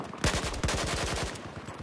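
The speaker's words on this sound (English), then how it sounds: "Everyone's shooting at that guy." Rapid automatic gunfire in the video game Battlefield 4, a fast regular stream of loud shots that runs through the whole short burst.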